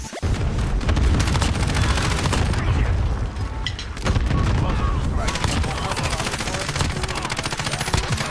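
Rapid automatic gunfire from the video game Call of Duty Warzone rattles almost continuously in dense bursts, with heavy booming shots layered in and a brief lull near the middle.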